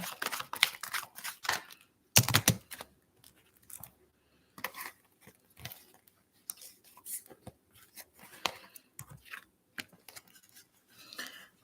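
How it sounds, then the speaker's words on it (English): Tarot cards are shuffled by hand in short, irregular bursts of crisp riffling and flicking, close and fairly quiet, separated by pauses of silence. "Let's shuffle a little bit more for Kevin's emotional state."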